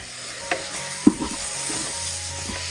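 Two chopped medium tomatoes sauté in a pan with a steady close sizzle, punctuated by a few soft spoon scrapes and stirring knocks, with no voices.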